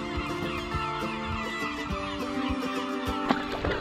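A flock of birds on Mohawk Island, a lighthouse island, call over and over in overlapping harsh, squawking cries, close and continuous with no talking.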